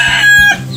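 A Rhode Island chicken on a rural backyard farm gives a loud, close, short crowing cluck that is strongly tonal and lasts under a second, with no talk over it.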